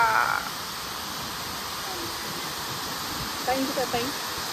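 Water rushes steadily at Terna dam near Dhoki, a broad continuous roar filling the scene, with brief voices speaking over it near the start and end.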